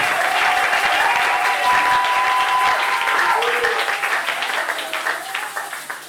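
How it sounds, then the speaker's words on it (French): Church congregation at Binza Ozone applauding and cheering for a matriarch, a dense, loud wash of clapping from a large crowd that slowly fades toward the end, with a sustained tone and some voices mixed in. "Je veux qu'on acclame maintenant pour la matriarche."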